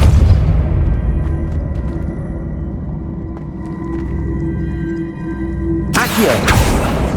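A Depulso spell cast in Hogwarts Legacy, heard as a loud, rumbling boom that swells and fades, followed near the end by a sharp, bright burst.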